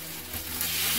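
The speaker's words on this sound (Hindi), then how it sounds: "2 टेबलस्पून ऑयल है, उसके अंदर हम डालेंगे लहसुन अदरक का पेस्ट" Garlic-ginger paste sizzling in about two tablespoons of hot oil while cooking chicken boti, a steady close crackling hiss that holds even and grows slightly louder, with no talking.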